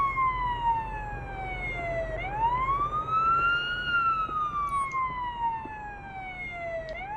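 Wailing siren in the Police Simulator video game, ambulance sirens sweeping up and down in slow cycles, steady and fairly loud over a low engine rumble, with no talking.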